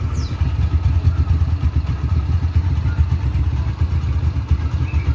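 A GL160 motorcycle engine idles smoothly and steadily close by, a continuous low mechanical hum with light clatter and no revving across the whole stretch.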